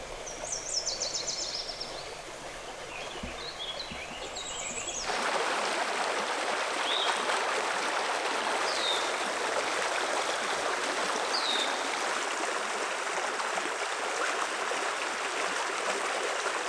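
A small creek holding brown trout flows steadily, its broadband rush of moving water swelling louder after a few seconds and continuing alone, with faint birdsong over it.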